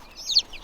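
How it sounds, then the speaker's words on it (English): A pet chicken gives a single brief, soft cluck close by in a quiet indoor setting. "It's a chicken."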